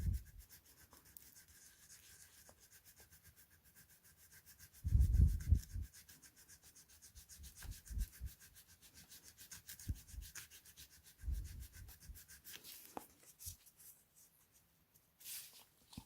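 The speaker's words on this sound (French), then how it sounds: "Alors on va utiliser une lime plate." A flat file smoothing a 3D printed art toy, with quiet intermittent rasping strokes and a few louder rubbing bursts, close up and mostly soft.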